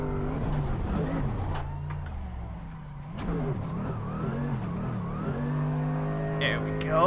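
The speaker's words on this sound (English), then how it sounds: "I love the engine sound." A Corvette C5 drift car engine revs and growls in the video game Assetto Corsa, pitch climbing and falling through gear changes, with a voice speaking over it.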